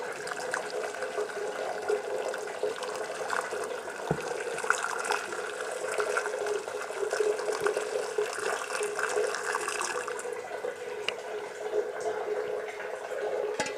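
Water poured steadily from a pot during a Belgian strong ale homebrew session, a continuous splashing, hissing flow that runs unbroken and fairly loud throughout, with no talking.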